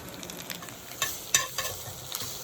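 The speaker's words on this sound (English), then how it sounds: "Oh, she's a bacon, folks. She's a bacon." Bacon fries in a pan outdoors in Germany's Ore Mountains, giving a steady close crackling sizzle with a few sharper pops and spits standing out over the constant fat hiss, no voices.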